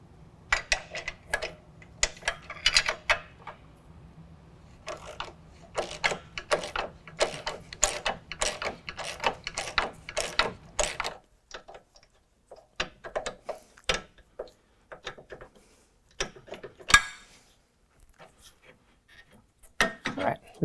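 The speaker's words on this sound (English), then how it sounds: "Now we're going to go ahead and remove the lower control arm using a 21mm and a 24mm." Wrench work on the lower control arm bolts of a 2018 Jeep JL 2-door during a lift kit install: sharp metallic ratcheting clicks and clanks in irregular bursts, close up, with quieter gaps.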